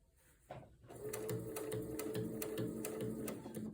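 A sewing machine stitches thick ric rac binding at a slow, steady pace. The close, continuous whir carries a regular mechanical rhythm of needle strokes.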